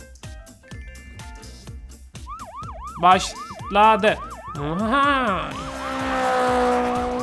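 A wailing fire truck siren in a Roblox car-merge simulator game, rising and falling in quick repeated sweeps that grow louder and overlap with engine noise, while a player talks over the game sounds.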